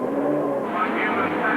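Touring race cars, including a black BMW numbered 77, roar past on a Birmingham street circuit at a 1990 championship round, their engines loud and close, with a commentator talking over them.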